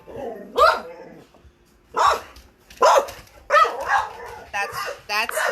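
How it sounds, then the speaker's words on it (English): A pet dog named Butters barks in several sharp, loud bursts spaced by short pauses, close to the microphone with some voice mixed in. "That's my dog when he acts like a freak"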